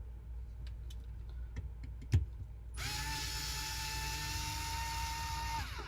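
A power tool whirs steadily for about three seconds, unscrewing fasteners from an RC comp crawler, after a few light clicks and a sharp knock.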